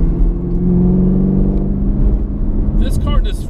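A 2018 Chevrolet Camaro ZL1 1LE on a road test drive, its engine droning and pulling steadily through a gear with a rising rumble, heard from inside the cabin; a voice briefly cuts in near the end.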